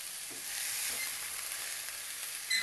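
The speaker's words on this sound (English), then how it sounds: "Sauteing the rice in a little oil helps each grain to stay separate." Rice sautéing in a little oil with spices for vegetable pullao, giving a steady, close sizzle and fry hiss with faint stirring scrapes throughout, no voices.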